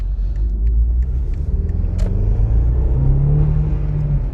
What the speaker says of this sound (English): it's definitely a bit of juddering occurring, which wasn't there previously